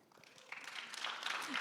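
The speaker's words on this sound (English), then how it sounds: "You should always applaud for being debt-free." An audience at a Constitution Day talk breaks into applause, starting thin and faint, then swelling into a fuller, steady clatter of many hands within a second and a half.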